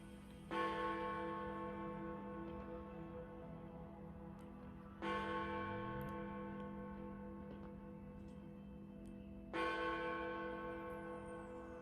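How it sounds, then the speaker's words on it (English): Church bells in London toll on New Year's Eve, three slow, resonant strikes spaced about four seconds apart, each ringing out and decaying, heard faintly from a distance. "So far, I hear 5 bells, now 6."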